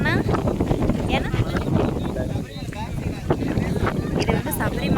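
Wind buffets a microphone outdoors on a trip near Thekkady, a steady rough rumble and gusty roar running throughout, with a person talking underneath.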